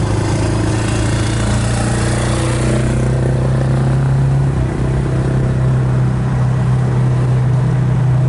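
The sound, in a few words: 1965 Ford Mustang convertible engine driving in second gear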